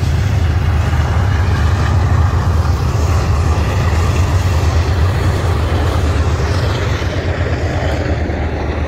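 A loud, steady, low rumble of a train rolling past through a train tunnel, continuous for the whole stretch with a roaring, echoing quality.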